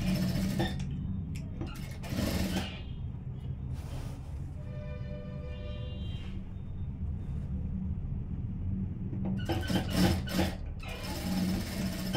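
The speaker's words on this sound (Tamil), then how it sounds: "சேது தையல் போட்டுட்டேன் இது வரைக்கும்." A sewing machine stitches silk skirt lining together with the outer cloth, a low steady mechanical whir running throughout, with a few sharp rustling and clattering bursts of fabric handling near the start and end.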